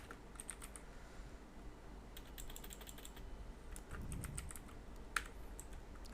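Typing on a computer keyboard: bursts of quick, light key clicks come in uneven clusters, fairly close and faint, with one sharper keystroke near the end.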